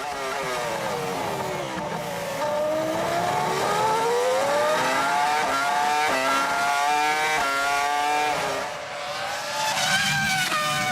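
Formula 1 cars racing at the 2004 Malaysian Grand Prix, loud high-pitched engines wailing and shifting through the gears as several cars pass close by one after another, with no talking.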